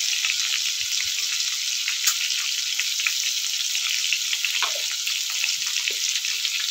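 Papaya pieces frying in a pan with salt and turmeric give a steady, loud, close sizzle that holds throughout, with a few faint stirring knocks and no talking.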